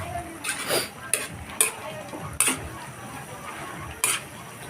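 Sigarilyas (winged beans) stirred in a cooking pot of coconut milk, a handful of distinct clinks and scrapes of a utensil against the pot over a faint background simmer, with no speech over them.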